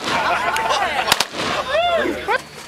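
A 37mm Bofors cannon fires once outdoors, a single sharp, loud blast cutting through surrounding shouting and excited voices.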